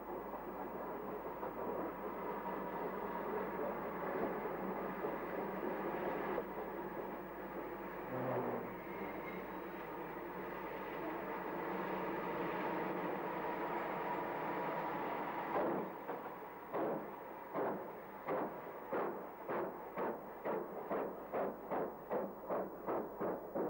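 An LMS steam tank locomotive rumbles along for a long stretch before its exhaust breaks into a steady rhythm of sharp, evenly spaced chuffs, quite loud and alone without voices.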